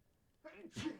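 A single sharp sneeze from a person close by, a quick indrawn breath followed by a loud burst, under a quiet room background.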